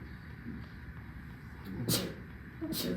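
A sneeze bursts out twice over a low background murmur and rumble, each brief and sharp.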